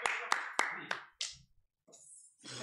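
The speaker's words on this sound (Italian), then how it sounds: "un applauso" A few people applauding, four sharp, evenly spaced claps close by that quickly fade, followed by brief voices.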